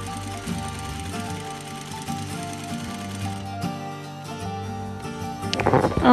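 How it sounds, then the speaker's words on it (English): A sewing machine stitching fleece backed with cotton for a small cuddle-cup pet bed hums steadily at close range under a bed of music, with no voices, ending in a louder, denser rattle. "take this all to the sewing machine again"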